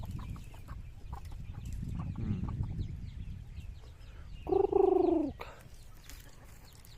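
A Rhode Island chicken on a farm gives a short clucking call partway through, close and clear over soft scratching and rustling in its pen.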